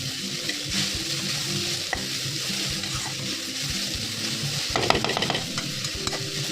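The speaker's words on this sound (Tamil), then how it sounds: "ஆட் பண்ணிவிட்டு நல்லா வதக்கிட்டு அந்த சால்ட் வந்து மிக்ஸ் ஆகிற மாதிரி மிக்ஸ் பண்ணிவிட்டு" Food sautéed in a pan with salt, a steady crackling sizzle broken by repeated scraping stirs, with a busier burst of clatter near the end, close and continuous, no voices.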